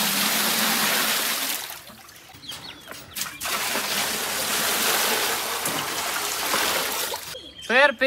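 Water pours steadily into a fountain basin with a broad rushing hiss, briefly easing midway, while a bird chirps near the end.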